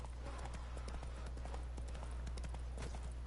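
Roach, the horse in The Witcher 3 video game, galloping in a quick, even run of hoofbeats over a low steady rumble from the game, heard up close.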